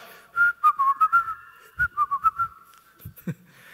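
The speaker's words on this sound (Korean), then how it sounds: "한번 휘파람 불어볼까요? 한번 불어봅시다." A short whistled tune of quick bright notes in two phrases, close by and clear, from a pastor at a pulpit, followed by a brief low murmur at the end.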